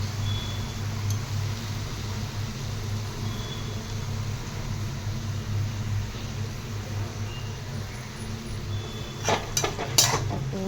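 Dried shrimp (sukat) sautéed with masala in a pan for a vegetable dish, giving a steady close sizzle and scraping stir throughout, with a few sharper utensil clinks near the end.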